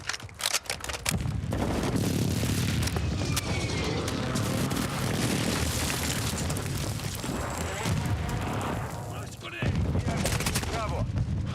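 Precision airstrike explosions in a first-person shooter match: a dense, loud barrage of booms and rapid gunfire rolling continuously, with radio-style voice callouts mixed in.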